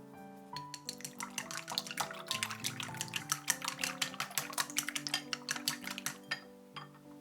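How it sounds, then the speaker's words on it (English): Eggs are beaten with a pinch of salt for an omelette. A whisk or fork clicks rapidly and steadily against a bowl, close and fairly loud, with no talking. "To make the omelette, beat 3 eggs. With 1 pinch of salt."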